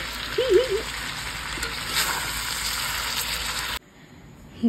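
Chicken sautéing in a pan gives a steady close sizzle with faint scraping for most of the time, then cuts off abruptly near the end, leaving quiet room noise.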